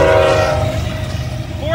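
Union Pacific 7749 leads a southbound intermodal train through a road crossing, its loud horn blaring in a sustained blast with rumbling wheels beneath, then a second horn note rising at the end.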